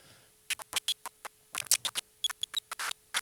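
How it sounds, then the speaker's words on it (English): Sparse, irregular synthesized crackles and pops like dusty vinyl, made by noise modulating synth oscillators, short bursts scattered over a faint steady hum, close and fairly quiet. "It sounds like a bit like a vinyl crackle."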